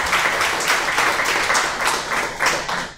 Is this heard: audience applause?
yes